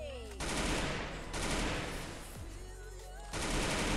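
Sustained automatic gunfire from a battle-royale shooter game rattles continuously and loud, in rapid dense strings broken by brief gaps, with no voices over it.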